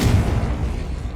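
A Confringo spell blast in Hogwarts Legacy lands as one loud, close, booming burst that decays quickly over about a second.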